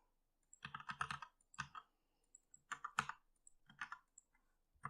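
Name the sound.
typing card data on a computer keyboard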